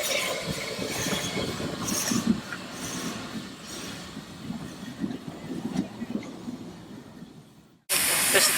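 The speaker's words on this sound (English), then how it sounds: "This is the train we've been waiting for, so it's a great opportunity now." A heritage railway train arrives with a low rumble, hiss and rolling clatter of its wagons passing close by, ending in a sudden cut to a brighter burst of noise.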